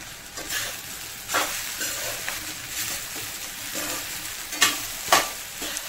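Sabudana khichdi, tapioca pearls with salt, stirred in a pan over medium heat, giving a soft steady sizzle with scraping strokes and a few sharper clinks of the spoon against the pan.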